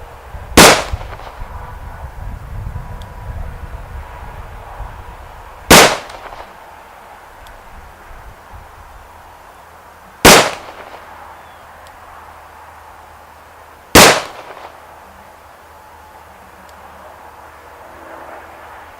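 Four sharp, loud gunshots from a Taurus M85 snub-nose revolver crack out several seconds apart at an outdoor range, each with a short echoing tail.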